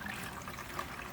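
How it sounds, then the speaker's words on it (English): Water trickles and splashes faintly and steadily as it is poured into a chicken watering system, with no talking. "now I'm going to put some water in it"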